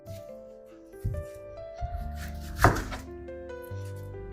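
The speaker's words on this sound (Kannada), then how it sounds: "ನೀರುಳ್ಳಿ ಕಟ್ ಮಾಡಲಿಕ್ಕೆ ಸ್ಟಾರ್ಟ್ ಮಾಡಿದ್ದೇನೆ." Onions are chopped with a knife for mutton biryani, giving a few close, irregular thunks on a board with one sharper knock in the middle.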